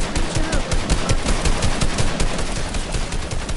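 Rapid automatic gunfire from a video game shootout rattles on without a break, loud and close, with no talking over it.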